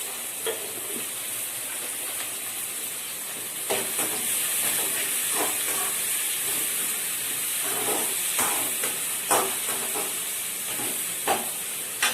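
Onions sautéing with salt in a pan for drumstick sambar, a constant hissing sizzle with scattered soft stirring scrapes throughout, no talk.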